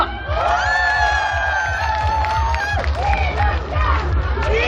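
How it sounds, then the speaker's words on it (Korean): An audience at a singer's concert in Pyeongtaek Tongbok Market cheers and whoops loudly, a dense wall of shouting and yelling voices with a low thumping beat underneath. "자 박수 한 번 주세요."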